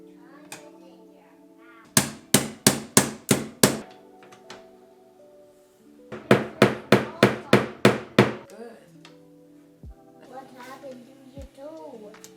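Two bursts of rapid hammer blows on wooden boards during a hallway makeover, about six sharp strikes each in quick rhythm, close by, with faint talk in between.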